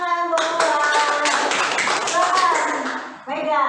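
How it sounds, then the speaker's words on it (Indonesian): A classroom of children claps their hands together in a rhythmic patterned clap, loud and close, with young voices chanting along over it. "Tepuk tangan Bulan."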